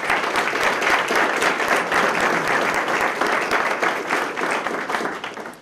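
A room full of people applauds a police officer at a police department promotion ceremony, loud sustained clapping with crisp individual claps, steady for several seconds before tapering slightly at the end.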